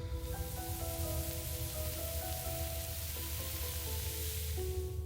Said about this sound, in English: Ooh, nice sizzle.